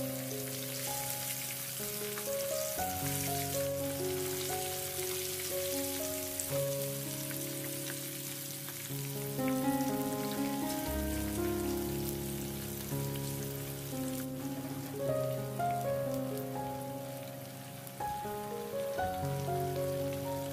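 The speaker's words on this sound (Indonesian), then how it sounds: "Lalu goreng hingga matang." Steady crackling sizzle of chicken, tempeh and tofu frying in hot oil, continuous for the whole stretch, with background music playing over it.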